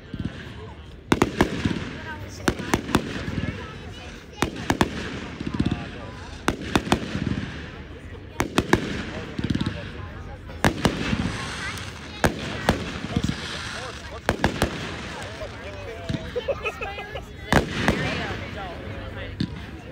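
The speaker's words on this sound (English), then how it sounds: "it's actually gonna have really crisp fireworks" Fireworks at the Pulaski Polka Days show burst again and again, with sharp booming cracks and crackling spread across the whole stretch, while a crowd murmurs and talks underneath.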